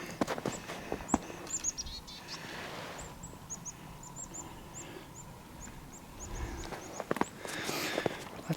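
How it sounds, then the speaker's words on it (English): Small birds chirp and tweet in a winter nature preserve near a covered red bridge, a run of short high calls in the middle stretch with scattered clicks and footsteps-like crunches around them, fairly distant and without speech. "Lots of birdies tweeting."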